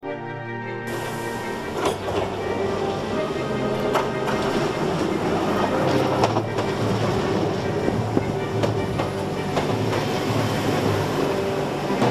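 A TER regional train runs on the Blois–Vendôme line, its steady rolling rumble and rail noise continuous and fairly loud throughout, with occasional sharper clicks from the wheels over the track.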